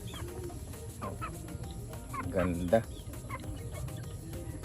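Hens cluck in short bursts with a louder squawk near the end, mixed with farmyard background noise and someone speaking.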